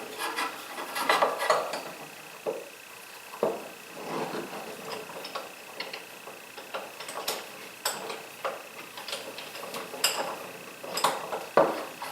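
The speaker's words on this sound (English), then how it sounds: "So I'm going to clamp this down like this." A metal clamp is worked and tightened onto a positioner track, giving close scraping, rasping and ticking metallic clicks in irregular bursts with short quiet gaps between them.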